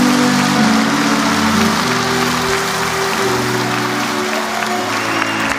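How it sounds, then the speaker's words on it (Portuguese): A church congregation applauds during a Portuguese-language sermon, a dense, continuous roar of clapping hands mixed with sustained musical tones underneath, loud and steady throughout. "Quem crê nisso, aplauda ao Senhor."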